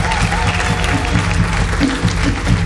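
A church congregation at a Sunday Protestant worship service applauds together, a sustained wash of clapping at moderate loudness, with some voices mixed in.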